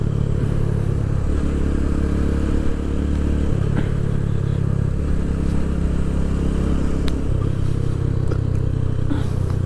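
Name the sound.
motorcycle riding in fourth gear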